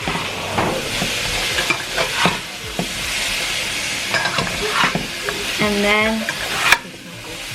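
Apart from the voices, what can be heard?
folding chicken wings with a spatula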